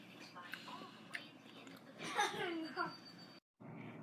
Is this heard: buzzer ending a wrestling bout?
no